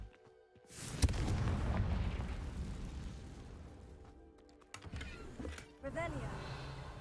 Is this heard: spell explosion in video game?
yes